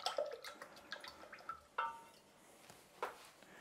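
Paintbrush swished and tapped in a water jar while rinsing between watercolour strokes, with faint drips and light clinks, quiet and close, no voices.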